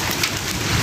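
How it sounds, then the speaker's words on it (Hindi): Large hailstones pelt a car and the ground in a heavy storm, a dense, steady, loud patter of hard impacts with no voices. "झालाबारी हो रही है जी।"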